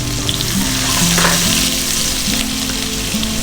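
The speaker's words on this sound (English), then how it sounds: "Into a heated pan, add some oil, pound masala, chopped green chilies," Masala and chopped green chilies fry in hot oil in a heated pan, giving a steady, close sizzle with a faint low hum running underneath throughout, and no voices.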